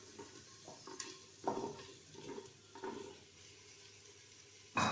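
Vegetables stirred into fried meat in a pot, with repeated soft scraping and clattering strokes over a quiet sizzle and a louder clank at the end.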